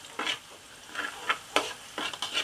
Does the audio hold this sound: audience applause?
no